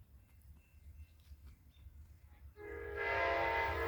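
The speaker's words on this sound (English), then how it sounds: "I bet we got an Amtrak." An Amtrak Southwest Chief passenger train on the Marceline Subdivision sounds a loud, sustained multi-tone horn that bursts in partway through and holds steady to the end, over a low rumble and faint background noise.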